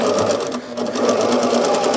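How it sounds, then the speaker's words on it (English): A sewing machine stitches a half-inch seam through fat-quarter cotton fabric, its rapid needle rhythm running continuously and close by. "I am going to go ahead and sew."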